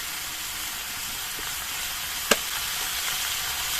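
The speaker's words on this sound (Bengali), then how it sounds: "এবার সবজিগুলো কিছুক্ষণ ভেজে নিতে হবে" Vegetables frying in a pan for a small khoyra fish recipe, a soft steady sizzle with one brief sharp clink of a utensil partway through. No one speaks.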